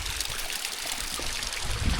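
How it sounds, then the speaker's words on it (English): A small waterfall in the Buttermere valley of the Lake District runs with a steady, close splashing rush of falling water, broadband and continuous throughout with no voices. "Nice little waterfall"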